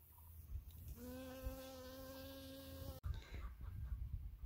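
A steady, high-pitched bee buzz holds for about two seconds close by as it forages among flower petals, then cuts off abruptly, followed by quieter rustling and faint movement.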